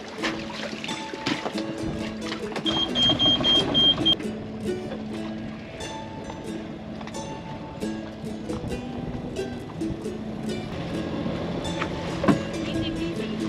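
A small sailboat's engine runs at a steady low drone beneath a busy mix of knocks, clinks and rigging noise aboard, with a brief high electronic tone early on.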